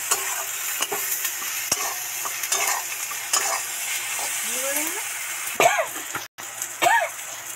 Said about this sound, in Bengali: ভালো করে নেড়ে চেড়ে মিশিয়ে দেব।